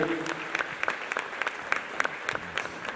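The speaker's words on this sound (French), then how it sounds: "Merci de les applaudir, s'il vous plaît." Audience applause for a pair of architects at the inauguration of an aquatic centre, a steady burst of clapping from a modest crowd lasting a few seconds, fairly close and without speech over it.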